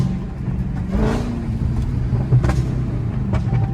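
Burble-tuned Dodge Charger SRT Hellcat driving at midnight, its V8 rumbling low and steady from inside the car, with a swell of revving and a few sharp pops and crackles from the exhaust.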